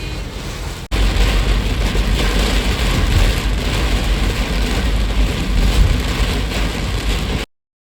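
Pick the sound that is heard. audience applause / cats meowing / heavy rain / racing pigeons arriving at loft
heavy rain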